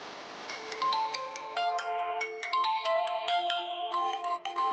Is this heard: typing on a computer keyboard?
no